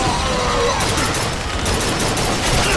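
Dense, continuous gunfire in the video game Bioshock Infinite's Clash in the Clouds mode, a loud sustained fusillade of overlapping shots filling the whole stretch with no talk over it.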